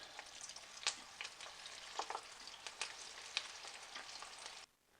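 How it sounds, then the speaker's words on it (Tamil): Balls of minced mutton for kola urundai deep-fry in hot oil, producing a soft, continuous bubbling sizzle with scattered crackles and pops, fairly faint and close, cutting off abruptly near the end; no speech. "இதையும் அதே மாதிரி பொரிச்சு எடுத்துடலாம்."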